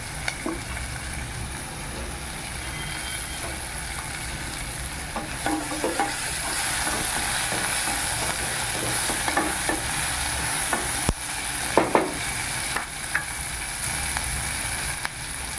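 Turkey berries (sundakkai) sauté in a hot pan, a steady close sizzle broken by scraping stirs and light clinks of the spoon, with no talking.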